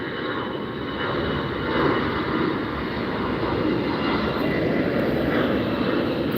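A large airliner, an Air Tahiti Nui jet at Los Angeles International Airport, roars steadily and loudly throughout, a broad continuous engine rumble with no talk over it.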